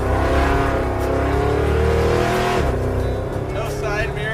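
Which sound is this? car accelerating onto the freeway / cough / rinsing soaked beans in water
car accelerating onto the freeway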